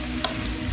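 A spoon stirs chicken with tomato and hearts of palm in a hot pan, giving a continuous low sizzle with one brief scrape near the start.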